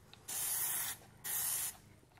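Plasti Dip aerosol can spraying a thick final coat onto a car emblem: two bursts of sharp, close hiss, each about two-thirds of a second, separated by a short pause, in a quiet room.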